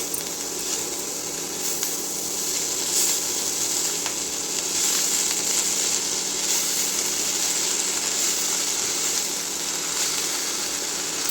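Coriander leaves sautéing in a pan give a steady, even sizzle with faint clinks of stirring, close and moderately loud and continuous throughout with no talk.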